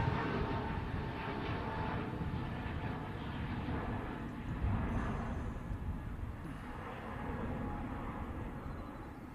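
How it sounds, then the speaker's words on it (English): An EasyJet Airbus A321 departs Manchester Airport, heard as a faint, distant, continuous engine rumble that rises slightly midway and then settles. "EasyJet 321 finally gets on its way."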